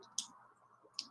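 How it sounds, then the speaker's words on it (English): Calculator keys tapped for a physics calculation: two short, crisp plastic clicks about a second apart, close and fairly quiet against a faint room hum. "Get a calculator and type this in."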